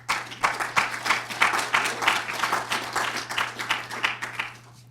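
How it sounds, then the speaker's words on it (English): An audience at a Yale University event claps together, a moderately loud burst of applause that keeps an even rhythm, then fades out at the end, with a low steady hum underneath. "Please, can we just clap for them?"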